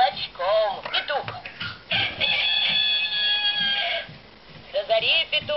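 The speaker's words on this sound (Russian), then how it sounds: "До зари петух встает" A rooster crows in a long, strained call, close by, with clucking and other chicken sounds around it, on a farm in a children's song.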